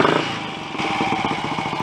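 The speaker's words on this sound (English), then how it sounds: "certainly the engine seems much more willing to respond to the throttle" A Royal Enfield 250 GT motorcycle engine with a poor-performance fault runs steadily with a rhythmic, pulsing thump under a clattery mechanical rasp, close and loud, with no talk.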